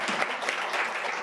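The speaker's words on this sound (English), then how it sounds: "I do really appreciate the applause" An audience at a legislator education forum applauds: a dense, even patter of many hands clapping, fairly loud and sustained through the whole brief moment.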